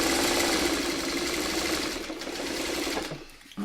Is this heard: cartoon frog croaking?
no